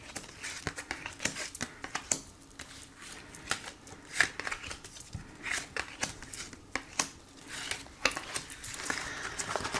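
Tarot cards being shuffled before a reading: a steady run of quick papery riffles and soft slaps, close and fairly quiet, repeating in uneven bursts with no voice over them.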